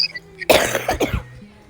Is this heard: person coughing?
yes